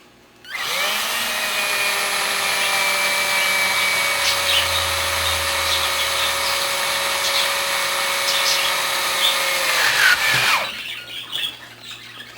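Power drill boring straight through PVC pipe, a loud, steady high-pitched whine that starts abruptly, holds for about ten seconds, then cuts off and winds down.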